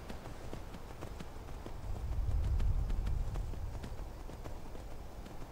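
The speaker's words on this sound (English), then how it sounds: "Get our horse ready for a getaway" Horse hooves clip-clop in Skyrim, a steady trotting beat with a heavier rumbling stretch in the middle, set against outdoor game ambience.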